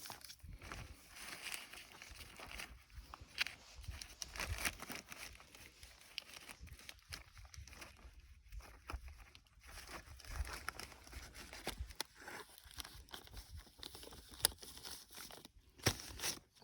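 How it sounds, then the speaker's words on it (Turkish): A plastic bag crinkles and rustles steadily for about sixteen seconds as it is pulled off a grafted sapling in a nursery. The crackling is fairly close and continuous, with scattered sharper crunches, and no voices are heard. "Şimdi poşetimizi şöyle çekelim."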